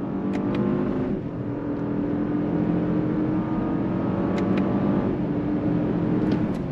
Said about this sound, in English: All the way out to red line.